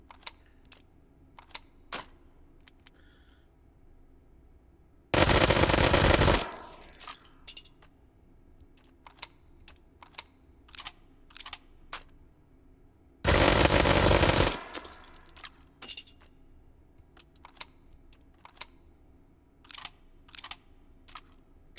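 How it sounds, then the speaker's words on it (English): Two sharp bursts of rapid automatic fire from an Uzi Nano in the VR shooter Hot Dogs, Horseshoes & Hand Grenades, each lasting about a second, separated by scattered clicks and clacks of handling the weapon. "We grab ourselves an Uzi Nano here."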